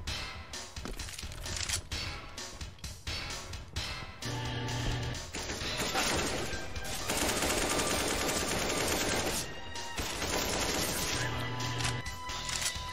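Bursts of automatic gunfire in Counter-Strike: Global Offensive on a GoldenEye-style map, rapid shots and impacts layered over loud background music, without speech.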